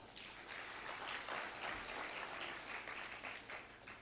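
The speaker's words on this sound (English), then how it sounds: "So clap for yourselves now." Graduates clap at a graduation ceremony in a dense, continuous burst of many hands, a steady mid-distance wash with no pause over the whole stretch.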